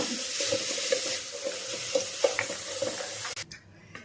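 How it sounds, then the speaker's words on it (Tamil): Tomatoes fry and get stirred in a pan for biryani, with a steady sizzle broken by repeated scraping strokes of the spoon. A sharp clatter comes near the end, then the sound thins out. "தக்காளி போட்டு நல்லா கொஞ்சம் வதக்கலாங்க."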